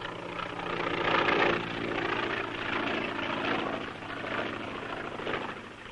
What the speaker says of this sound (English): That must be the plane.